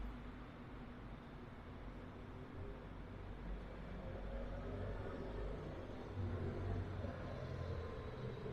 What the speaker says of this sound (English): So that London bus that's just passed is one of our newer buses.